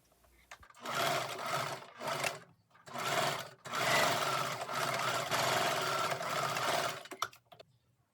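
A sewing machine stitches the outer fabric of a padded coat, running in several close, loud bursts: three short runs, then one long continuous stretch, with brief pauses between them.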